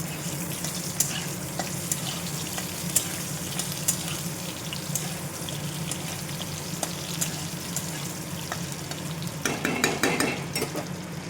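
Diced potatoes frying in oil with cinnamon and bay leaf for a chicken curry, giving a steady close sizzle and crackle with stirring scrapes, growing busier near the end; no talking.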